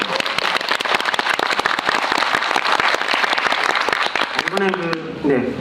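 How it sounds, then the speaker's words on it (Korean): A theater audience at a film screening with a director and cast Q&A claps in loud, dense, sustained applause, with a voice starting to speak near the end. "박수 한번 보내주셔야죠."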